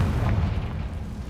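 A Confringo fire spell from the game Hogwarts Legacy lands as a deep, rumbling boom that fills the whole short moment with heavy low-end weight and no distinct sharp onset.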